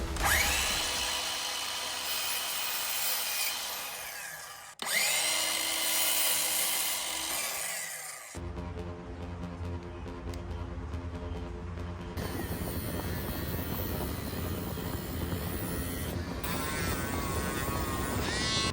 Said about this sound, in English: I busted out my DeWalt cordless miter saw. This thing is perfect for cutting dowels